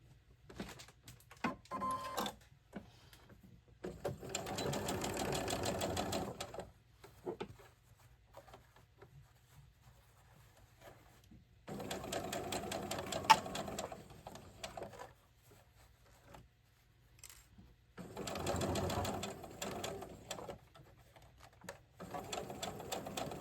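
A sewing machine stitches a pair of shorts for an 18-inch doll in three separate runs of fairly quiet, rapid chattering. Low rustles and handling sounds fill the stretches between the runs.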